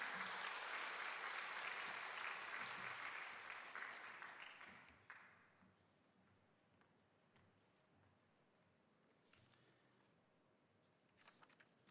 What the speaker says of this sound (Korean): 수고하시라고 박수로 맞이하겠습니다.